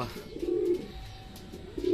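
Racing pigeons rest after returning from a 106 km training flight, giving two soft, close, low cooing calls separated by a short pause, alone without speech.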